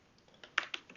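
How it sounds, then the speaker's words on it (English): Keystrokes on a computer keyboard, a few soft scattered clicks building to several sharper taps close by, in a quiet room with no talking. "I'm going to type this."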